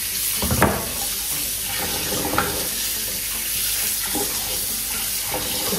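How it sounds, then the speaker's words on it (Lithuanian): Tap water runs steadily into a sink while five eggs are rinsed in a home kitchen, a continuous close splashing hiss with occasional light knocks. "Tai dabar paimsiu 5 kiaušinius ir juos nusiplausiu."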